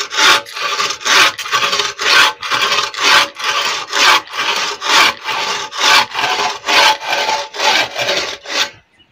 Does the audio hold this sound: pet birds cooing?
no